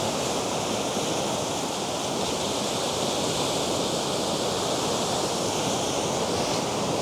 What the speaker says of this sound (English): Big waves coming.